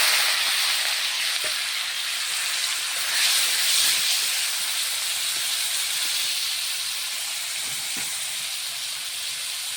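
Fish sizzling as it goes into hot oil in a home kitchen, a steady loud hiss of frying that holds through the whole stretch with small crackles and pops.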